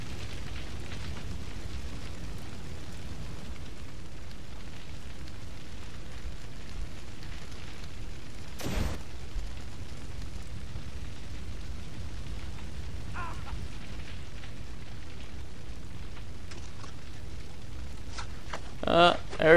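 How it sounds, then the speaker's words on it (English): Fire burning everywhere in Far Cry 3 gives a constant, faint, crackling hiss with a few sharper pops and bursts near the end. "Everything's on fire."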